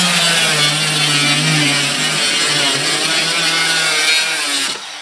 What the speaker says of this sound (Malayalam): പിന്നെ കട്ടിംഗ് ആണ്.